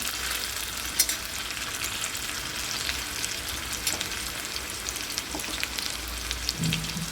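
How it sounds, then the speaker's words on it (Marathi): Bombil fish frying in a pan: a steady, close crackling sizzle of hot oil that runs the whole time, with occasional sharper pops and no talking. "अशा पद्धतीने आपली मच्छी पूर्ण फ्राय झालेली आहे"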